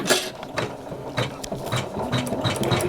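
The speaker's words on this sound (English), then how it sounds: "you're ready to stitch that again" An embroidery machine stitching an in-the-hoop project, running alone with a steady rapid mechanical chatter and repeating needle clicks, close and fairly loud.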